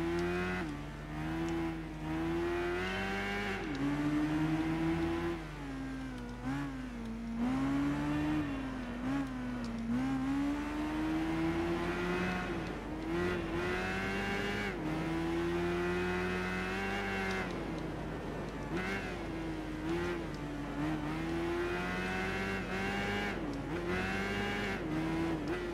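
A motorcycle engine in the Tourist Trophy racing game holds a strong, continuous note that climbs and dips as it accelerates out of corners through repeated upshifts, loud and steady, with no one talking over it.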